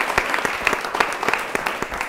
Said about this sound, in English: Another round of applause for yourself, please.